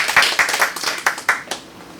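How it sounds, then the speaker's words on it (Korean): Staff at an insurance office meeting give a brief round of clapping, a handful of sharp, close claps in an uneven patter that thins out and fades within two seconds. "박수 한번 부탁드립니다."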